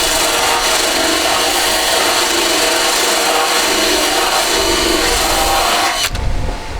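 A powered wire brush grinds against the metal of a car's front wing, loud, close and continuous, cutting off abruptly near the end.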